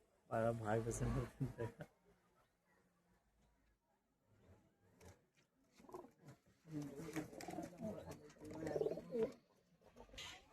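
High-flyer pigeons of the Ablook and Madrasi types coo softly in low, throaty repeated calls, heard close by while someone talks over them.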